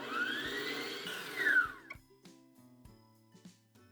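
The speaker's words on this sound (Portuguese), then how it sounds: "Agora eu vou bater os ovos com o açúcar na batedeira por uns 2 minutos" A stand mixer on speed 2 beats eggs with sugar, whirring steadily for about two seconds, then winding down into quiet scattered clicks and knocks.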